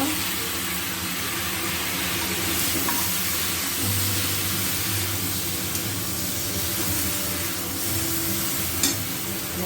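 Ridge gourd tossed into a hot pan while making masoor dal, giving a steady, dense sizzle that holds at an even, fairly loud level close by, with a faint background hum and no talking.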